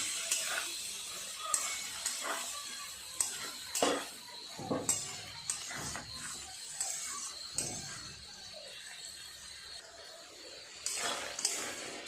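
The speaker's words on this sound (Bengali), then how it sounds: "কড়াই দিয়ে আর একটু ভালো করে কষে নিই" Spices, potatoes and vegetables stir-fried in a kadai bring irregular metallic clanks and scrapes from a spatula against the pan over a soft, low sizzle, close and fairly quiet.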